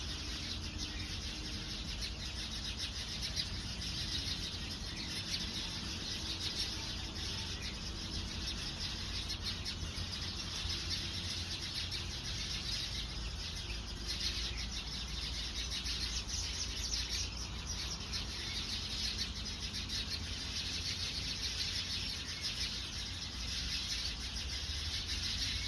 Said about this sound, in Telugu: కానీ వాటి రాగాలు చూడండి, కిలకిల రాగాలు ఎంత బాగున్నాయి.